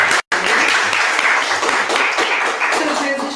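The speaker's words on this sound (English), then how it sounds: "round of applause for you." An audience applauds steadily for a few seconds, a dense, even wash of clapping close to the microphone.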